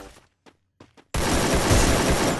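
Gunfire erupts in the video game Free Fire: after a few faint taps and near silence, a sudden loud burst of rapid shots hits and keeps going as a dense, continuous volley.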